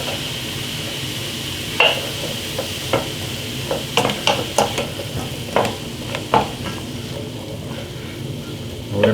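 Garlic and vegetables sizzle steadily in a hot pan, a constant frying hiss punctuated by scattered stirring clicks and scrapes, close and fairly loud with no talking.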